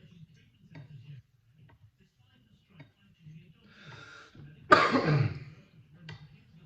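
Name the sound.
coughing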